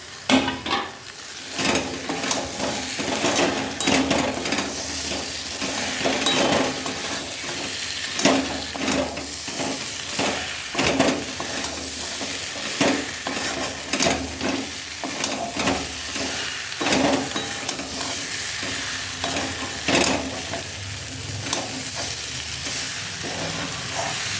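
Spice paste sizzles steadily in hot oil as fried jackfruit and potato pieces are stir-fried into it, with repeated scraping and stirring strokes over a continuous frying hiss; no voices.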